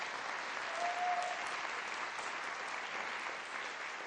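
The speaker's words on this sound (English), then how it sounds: "If I could get a round of applause for Owen." Steady applause from attendees at a Lexington annual town meeting, an even, dense wash of clapping that carries on without pause or voices for about four seconds.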